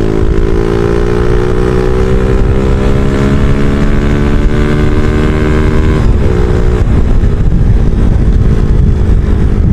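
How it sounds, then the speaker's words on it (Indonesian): A Yamaha Jupiter Z1 motorcycle fitted with a Tsukigi exhaust revs loud and close, a rising high-throttle engine note that dips and roughens near the end, with no talk over it. "Nih suaranya kayak gini nih kalau digas tinggi."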